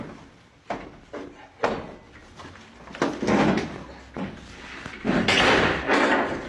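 Repeated heavy bashing on a door, apparently in a video game, with the top locks targeted: a series of loud thuds and slams at irregular intervals, building to harsher, rattling impacts toward the end.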